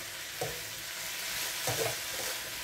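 Coconut milk going into a pan of anchovies simmering for ginataan, a steady bright sizzle with two soft stirring scrapes.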